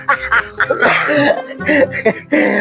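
A loud fit of coughing up close, a run of harsh repeated coughs with throat-clearing sounds mixed in.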